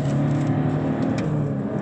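Diesel engine of a BMW E46 320d heard from inside the car during a gear shift, a loud steady drone with a slight dip in pitch, no speech.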